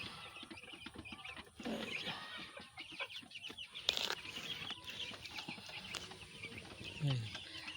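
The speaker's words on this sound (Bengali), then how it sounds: "আর এই পাশে তো ছোটো মুরগি আর এই পাশে ডিম পাড়া মুরগি দেখুন" Laying hens in a poultry pen cluck and chatter in a busy, uneven stream, with a brief flutter of wings and a louder squawk near the end, all fairly close.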